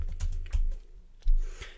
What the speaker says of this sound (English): let's see if I type this in